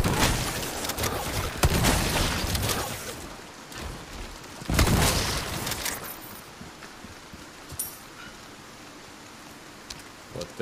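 12-gauge shotgun blasts in the Resident Evil 4 Remake video game, a few broad booming shots spaced seconds apart, the loudest near the start and middle, fading into a softer hissing background.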